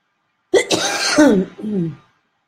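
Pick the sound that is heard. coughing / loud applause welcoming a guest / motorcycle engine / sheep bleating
coughing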